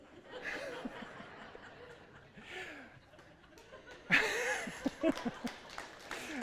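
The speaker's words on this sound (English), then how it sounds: "I don't know if you should be clapping about that" An audience at a talk about fear and worry laughs and then breaks into brief scattered clapping in a large room, the applause swelling near the end, with light chuckling and a voice underneath.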